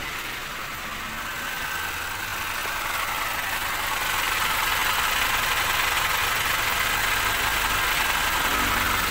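A 2019 Toyota Grandia GL engine idles steadily just after an engine wash, a close, even mechanical hum and rattle that grows slightly louder and holds without pause.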